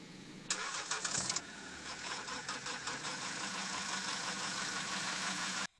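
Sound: AI-generated car engine starting, Meta Audiobox

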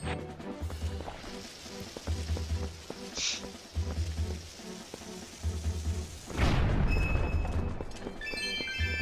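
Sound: explosion in The Legend of Zelda: Twilight Princess video game

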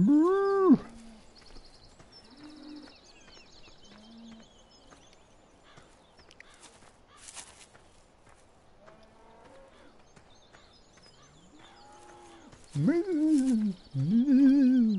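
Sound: cows mooing in a video game

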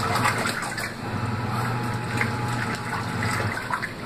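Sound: mini automatic washing machine filling with more water

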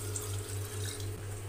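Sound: pouring water into a cooker

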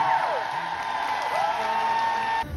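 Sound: audience applause for the band at a concert

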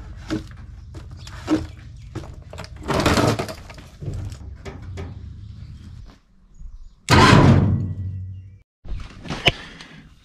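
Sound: metal frame slamming down hard

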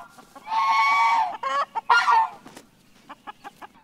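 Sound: chickens clucking after being put back in pen

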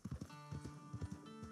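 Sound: horses in Red Dead Redemption 2 video game

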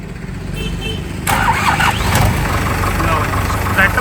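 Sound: tractor engine starting and idling

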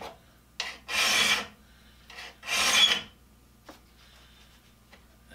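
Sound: hand-sharpening a carbide saw blade tooth

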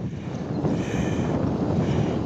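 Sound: wind

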